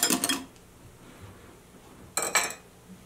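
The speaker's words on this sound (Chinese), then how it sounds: "然后充分搅搅拌一下" A utensil stirs a milk-and-yeast mixture in a bowl for steamed sponge cake, giving two short bursts of clinking and scraping against the bowl, one at the start and another near the end, with quiet in between.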